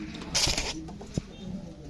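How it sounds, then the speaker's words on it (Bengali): Golakosha pigeons coo softly in a short burst, with a brief rustle and a faint thump, close by and fairly quiet. "হ্যাঁ ভাই গলা কষা কবুতর গলা কষা"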